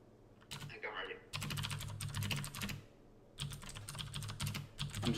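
Rapid clattering keystrokes on a computer keyboard come in dense bursts separated by short pauses, close and clear, with a low steady hum underneath.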